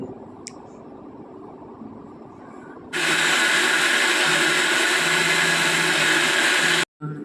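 Low room noise gives way to a mixer grinder switching on to grind dosa batter, running loudly and steadily for about four seconds, then cutting off briefly before restarting.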